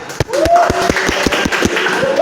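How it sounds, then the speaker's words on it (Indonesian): Classroom applause from students for a group presentation, a dense run of claps with some voices and cheering mixed in, close and fairly loud throughout. "tepuk tangan kelompok 3"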